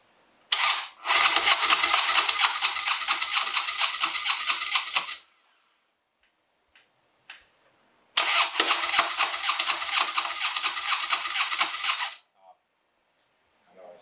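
A Harley-Davidson Dyna motorcycle with a fuel issue cranks and fires up, then runs loud and close for several seconds. After a short quiet gap it starts a second time and runs again before cutting off.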